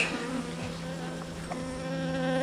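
Steady, close buzzing of many honeybees around a hive, a dense continuous hum with a few individual bees droning past.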